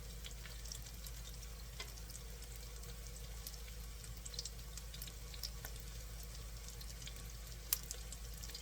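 Chicken egg foo young patties sizzle gently in a pan, a steady soft frying hiss with occasional small pops and crackles, close and fairly quiet with no talking.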